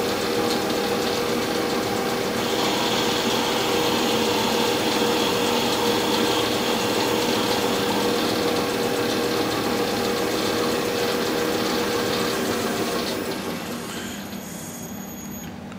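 A metal lathe cuts a 60 degree counterbore with an inserted carbide boring bar while modifying the shank of a boring head: a steady, loud machining drone with a high ringing tone, easing off near the end as the cut stops.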